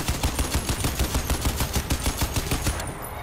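Rapid automatic gunfire from a weapon being emptied in the shooter game Crysis 2, a fast, even rhythm of loud shots that continues for about three seconds and then cuts off as the ammunition runs out.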